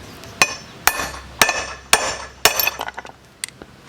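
A hammer strikes a Jeep TJ axle u-joint in close, loud metallic blows, five evenly spaced hits followed by a few lighter clinks.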